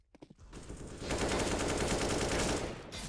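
Rapid tapping gunfire from a competitive CS:GO match, a few quick shots followed by a dense, sustained burst of automatic fire that fades at the end.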